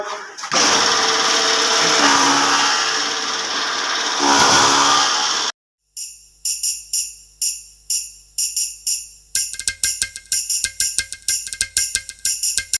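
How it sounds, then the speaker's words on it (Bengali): A Dream Machinery two-in-one straw and grass cutting machine gives a loud, steady motorized whir that cuts off abruptly, followed by a series of sharp rhythmic chopping pulses that speed up toward the end. A voice speaks over the running machine. "এই ম্যাজিক মেশিন দ্বারা আপনারা এক পাশ দিয়ে যেমন খড়ঘাস কাটবেন"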